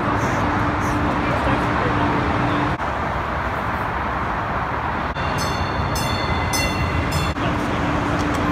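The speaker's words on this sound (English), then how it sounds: "we just got off the train" Steady rumbling of a train in motion in Denver with rail clatter throughout, brief high squeals near the end, and voices talking faintly underneath.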